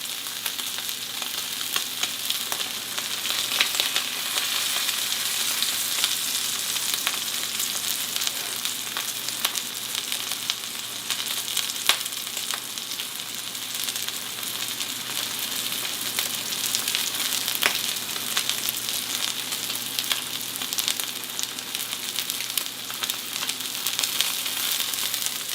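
A ribeye steak sears in a hot pan, giving a loud, continuous close sizzle and hiss with faint crackles that holds steady throughout, with no talking.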